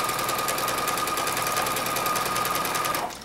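A sewing machine stitches free-motion quilting on an autumn quilt topper in a steady, fast, loud mechanical whir with an even needle rhythm, running alone and without pause until it slows and stops at the very end.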